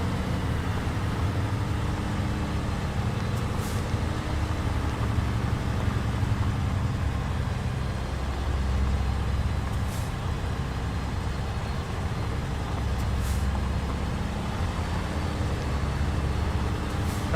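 A loud Cummins-powered heavy truck, a Peterbilt 379/389 type rig hauling a long load in American Truck Simulator, drones with a constant deep rumble and steady engine roar, with a few brief hissy air bursts over the top.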